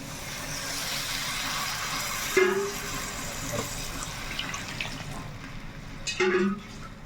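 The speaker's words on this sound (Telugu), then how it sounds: "ఇప్పుడు వాటర్ వేసుకుందా" Water streams steadily into a pot of chicken curry with a continuous splashing hiss, accompanied by a few soft clanks, fairly close.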